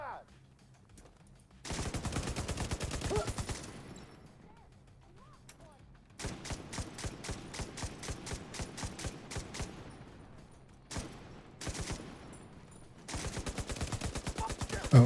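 Video game gunfire in rapid automatic bursts, three long stretches of fast evenly spaced shots separated by quieter gaps, loud and close, with a voice talking faintly in places.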